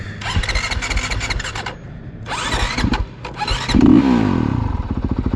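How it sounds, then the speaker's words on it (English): A 2020 Honda CRF450R dirt bike fails to start, giving close, loud bursts of cranking and sputtering engine noise in repeated attempts, with a sharper mechanical squeal near the end. "all the KTM fanboys are making fun of me because my bike didn't start up"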